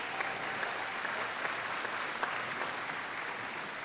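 A town hall audience gathered for a single-payer health care meeting claps steadily, a dense, even wash of applause from many people at moderate distance, lasting the whole moment with no voices standing out.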